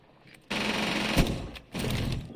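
SMG gunfire in the Rainbow Six Siege video game: two loud, sustained automatic bursts separated by a brief gap, sharp and close.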